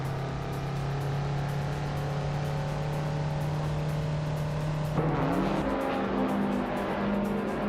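Race cars in a game race led by a 1985 Mazda RX-7 Turbo: a sustained steady engine drone that shifts pitch abruptly partway through as revs change, loud and continuous with no voices.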